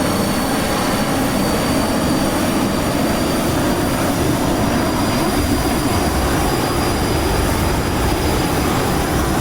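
Steady, loud jet engine roar from a business jet in Microsoft Flight Simulator 2020, a broad continuous rumble with no distinct landing gear retraction clunk standing out, no talk.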